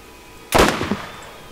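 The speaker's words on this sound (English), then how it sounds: "I can't wait to get a shotgun, even though I'm a hunter." A single loud shotgun blast in a video game, a sharp close report with a short decaying tail and no talk over it.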